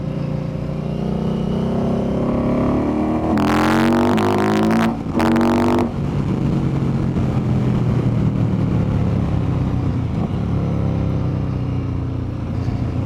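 A steady, loud Indian Scout Bobber motorcycle rumble with a deep aftermarket exhaust note, briefly swelling in a couple of rising revs midway before settling back to idle.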